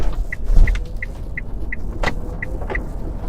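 A 2015 Nissan Leaf electric car pulls away and drives almost silently, with only a soft low road rumble and a faint, evenly spaced electronic chime repeating throughout.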